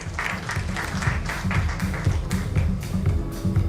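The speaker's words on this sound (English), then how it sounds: "Round of applause." An audience at a corporate communications conference panel claps in a brief round of applause, with individual claps distinct and moderately close, steady and unaccompanied by talk.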